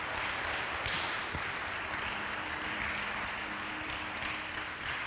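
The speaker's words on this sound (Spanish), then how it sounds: "Dale un aplauso al Señor que no se equivoca y que es verdadero." Church congregation applauding during a sermon, a continuous even wash of clapping at moderate level, with a faint steady tone running underneath.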